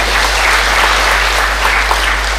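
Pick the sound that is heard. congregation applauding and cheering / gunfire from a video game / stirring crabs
congregation applauding and cheering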